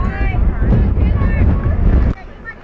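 Strong gusting wind at an outdoor softball game buffets the microphone in a loud, steady rumble for about two seconds, then drops away abruptly to a quieter background.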